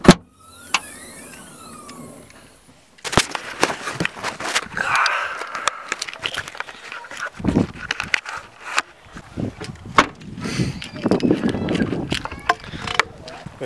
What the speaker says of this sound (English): I'm going to drive there now.